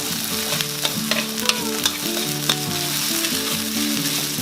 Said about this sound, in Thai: ทางการเขาเรียกว่าผัดเครื่อง